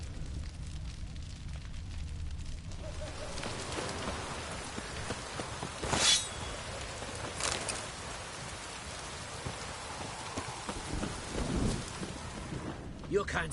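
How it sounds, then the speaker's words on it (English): Steady rain hisses across the whole stretch of a video game thunderstorm, with a few louder cracks and rumbles of thunder breaking through and faint voices underneath. "A storm, damn it."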